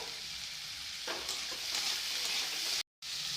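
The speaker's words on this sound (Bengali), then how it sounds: "সবজিটাকে ভালো করে ভেজে নেব" Chopped vegetables frying in a pan for fried rice, a steady close hiss and sizzle with a few stirring scrapes, running without pause apart from one brief dropout near the end.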